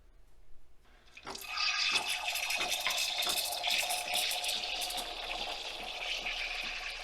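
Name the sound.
Nespresso milk frother frothing milk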